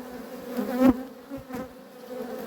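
Honeybees buzz steadily around an opened hive as frames are loosened and pulled out, a close, droning hum with a brief louder swell when the frame comes free.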